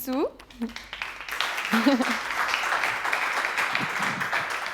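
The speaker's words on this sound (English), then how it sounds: "A big applause for Feiyu." Conference audience applauding a senior AI executive as she is welcomed on stage, a broad steady clapping wash that swells after a brief spoken introduction and continues evenly, with a voice briefly heard at the start.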